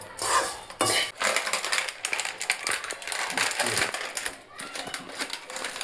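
Sev is tossed through seasoned puffed rice (mamra) in a bowl, giving a dense, continuous rustle and crunch with scraping clinks of a spoon against the dish and a voice speaking over it.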